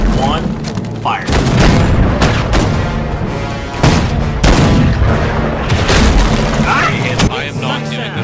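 Weapons fire in the Battlefield video game, with repeated heavy booms and bursts of gunfire in irregular clusters, loud and close, under and between excited talk from players.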